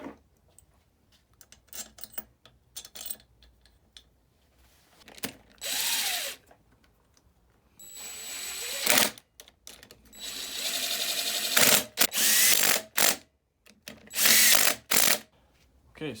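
A power tool tightens engine bolts on a Honda XR250L during an engine rebuild, firing in several short whirring bursts separated by pauses and clanks, close and fairly loud.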